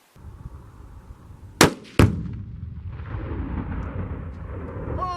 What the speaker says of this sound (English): let's see what happens when Thundershot goes off